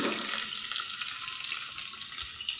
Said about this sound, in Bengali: প্রথমে আমি পরিমাণ মতো তেল দিয়ে দিলাম, কাঁচামরিচ আর পেঁয়াজ কুচি